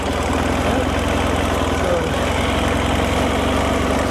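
A small 40-horsepower adventure vehicle engine runs steadily at low revs during an overland roundup in Ellijay, Georgia, giving a continuous loud rumble with a faint knocking texture and no pauses.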